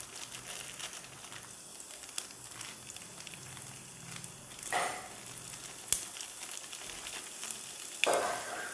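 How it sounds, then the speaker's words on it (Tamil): Vadavam tempering sizzling in hot oil for Madras fish curry, a steady faint crackling fry with a few sharper pops and bursts of louder sizzle, close and continuous. "தாளிப்பு வடவம் போட்டுக்கோங்க."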